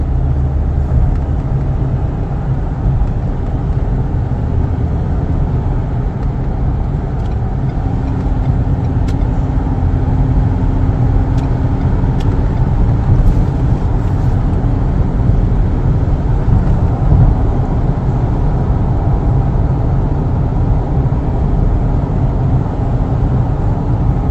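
A remapped Ford Ranger 3.2 pickup engine pulls hard to overtake, a steady loud drone from inside the cab that holds throughout with no talking.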